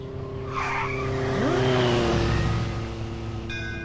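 A fast motorcycle sweeps past, its engine note swelling to a peak and dropping in pitch as it goes by, then fading away.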